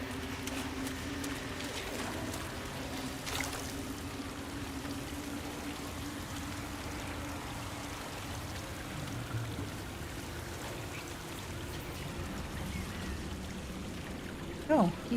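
A giant waterfall in Dragon Age Inquisition roars as a steady, even wash of rushing water that stays constant throughout, with faint birdlike chirps and a short click near the end.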